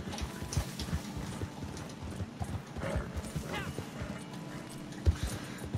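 Rhythmic hoofbeats of a horse in a video game clop along steadily at a moderate distance, with faint background noise and occasional brief knocks.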